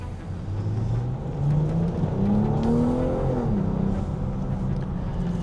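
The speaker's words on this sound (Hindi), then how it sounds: "इसके जो टर्बो का विसल है वो भी कैबिन के अंदर सुनाई देता है।" Turbocharged engine of a BMW M440i Convertible with all-wheel drive, heard from inside the cabin in Delhi traffic as a steady muffled drone rising in pitch under acceleration, with a faint turbo whistle.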